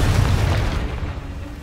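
A loud, deep explosion from the Confringo fire spell in Hogwarts Legacy, a heavy boom that rolls out and fades over about a second and a half.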